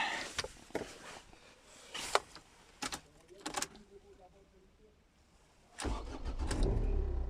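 A manual car's engine cranks and catches after some clicks and handling noises, then settles into a steady, close idle that continues to the end.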